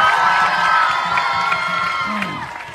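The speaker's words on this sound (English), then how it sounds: "a major round of applause for Indonesia" A crowd cheers and claps for the Indonesian contingent from Gontor Darussalam School at a closing gathering, loud and close, with shouts and whoops over the clapping before it gradually fades.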